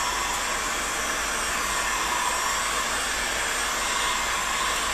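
Heat gun blowing hot air onto a 1-inch pipe while building a reinforced Sipahi bow: a steady, loud, close broadband whoosh and whine that holds constant throughout, with no voices.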